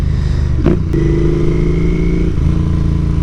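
A Royal Enfield Continental GT with a 2-into-1 exhaust idles with a deep, throaty exhaust burble, blipping the throttle briefly once before settling back to a steady rumble, close by.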